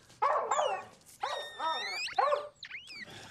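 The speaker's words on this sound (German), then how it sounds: "Haben Sie noch nie einen Hund quietschen hören?" A dog gives a run of high squeaks, yips and whimpers in three short bursts with brief gaps, close and fairly loud, with no talking over it.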